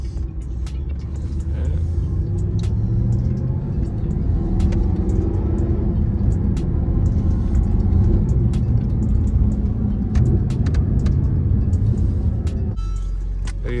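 Mercedes SLS AMG engine rumbling close and loud, its deep low drone rising and falling through repeated revs and downshifts for nearly fourteen seconds, with no voices.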